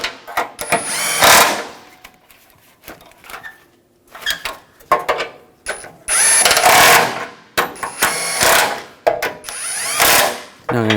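A ratchet snugs down bumper impact absorber nuts on a 2014–2020 Nissan Rogue, several loud bursts of fast clicking strokes separated by pauses, close up with no speech.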